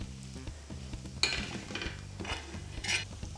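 Onion-garlic masala and red chilli powder sautéed with crispy onions in a pan, soft sizzling with a few sharp stirring scrapes and utensil clinks, close but fairly quiet.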